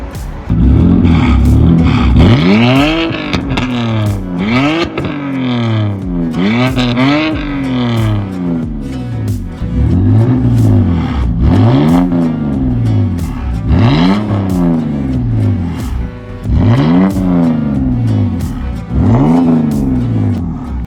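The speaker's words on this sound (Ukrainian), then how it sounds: "звук вихлопа цієї машини на прямій трубі" A loud, raw straight-pipe exhaust on a diesel BMW E39 with an M57D30 engine, Stage 2 tune and EGR removed, revs again and again, rising and falling in repeated surges with a harsh, rumbling crackle, close and continuous throughout.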